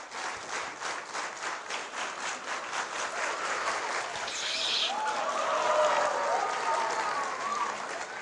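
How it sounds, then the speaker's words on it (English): An audience claps together in a steady rhythm of distinct beats that speeds up into fast, dense applause, close and loud, with a voice speaking briefly over the clapping at a magic and science show. "I would like you to clap, slowly, getting faster and faster"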